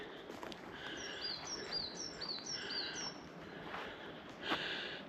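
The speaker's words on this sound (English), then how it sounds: "Lots of birds in here" Faint, high chirping bird calls repeat in a short series over a soft outdoor hiss in the Scottish countryside, with no other prominent sounds.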